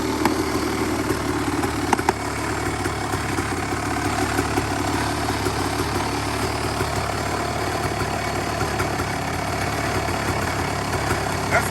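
A Kawasaki KX 500 two-stroke motorcycle engine idles steadily after a cold start following months of sitting, a close, continuous rattling burble that holds an even level throughout with no talking over it.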